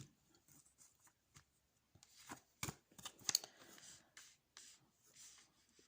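Tarot cards riffled and slapped together in several short bursts, close by, with soft rustling in between and no talking.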